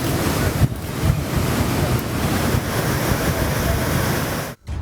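Water gushes from the opened Mettur dam on the Cauvery, released at 12,000 cubic feet for delta irrigation, as a loud, steady roar with heavy wind buffeting the microphone and a brief dip near the end.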